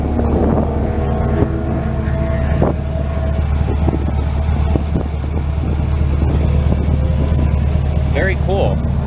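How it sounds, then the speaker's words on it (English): Chevrolet Corvette C8 engine idling at Willow Springs Raceway, a steady low rumble under wind noise and people talking nearby. "It's really quiet at idle, considering how nasty it sounds when you open it up."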